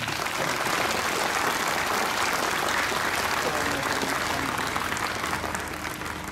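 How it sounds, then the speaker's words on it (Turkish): An audience at a school opening ceremony gives loud, sustained applause, a thick, even roar of many hands clapping at close range without pause. "kuvvetli bir alkış alabilir miyiz lütfen?"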